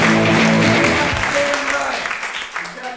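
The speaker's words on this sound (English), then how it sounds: "extended applause" Applause from a comedy show audience fills the room loudly at first and slowly tapers off over a few seconds, with cheering and voices mixed in.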